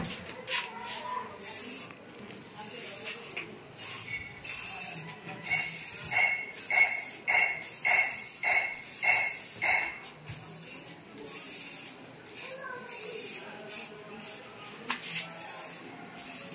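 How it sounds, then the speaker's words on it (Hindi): Spray paint hisses onto a handmade motorcycle leg guard for a Honda H'ness 350 in a series of short bursts, rhythmic and close, with brief pauses between sprays and some faint background noise. "स्प्रे कलर इधर बीच डालना ही पड़ेगा।"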